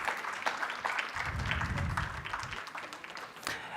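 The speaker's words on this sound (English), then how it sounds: "I request all the participants to kindly give them a huge round of applause and welcome them." Audience applause welcoming panelists at an inaugural ceremony for a 90th birth anniversary, a sustained round of clapping from many hands with distinct sharp claps, a low murmur swelling briefly midway.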